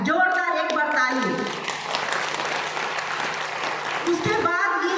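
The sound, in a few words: audience applause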